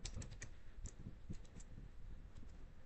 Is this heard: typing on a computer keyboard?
yes